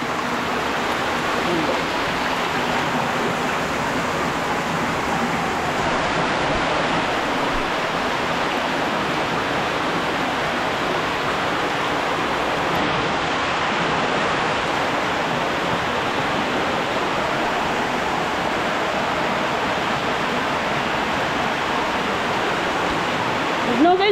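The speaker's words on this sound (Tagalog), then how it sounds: "Shower." Steady broadband rush of running shower water, continuous and fairly loud for the whole stretch with no breaks, with faint voices under it.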